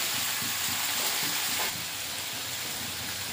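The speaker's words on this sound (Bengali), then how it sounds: "দিয়ে ভালো করে কষে নেব" Ridge gourd and potato with salt stir-fried in a pan, giving a steady broadband sizzle with soft scraping stirs throughout, close and fairly quiet, no voices.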